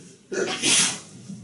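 A single sharp sneeze from someone in a room during a religious lecture, a short burst standing out clearly near the start with low background murmur after.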